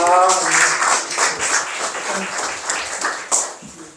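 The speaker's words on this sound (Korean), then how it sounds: "올라오실 때 그래도 박수로 환영해 주시기 바랍니다" An audience at a church seminar applauds to welcome a speaker to the stage, with moderate crowd clapping that ebbs and surges, and a voice briefly heard at the start.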